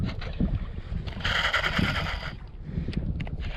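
A fishing reel's drag buzzes loudly for about a second aboard a panga boat, rising over wind buffeting and low rumble.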